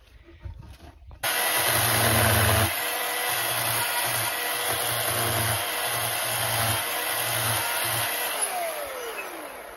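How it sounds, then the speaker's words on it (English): A Ryobi chainsaw on an off-grid ruin being restored on a pig farm starts abruptly after a brief quiet moment, then runs with a loud steady drone and repeated revving pulses of the engine. "Nick is so impressed with my Ryobi chainsaw"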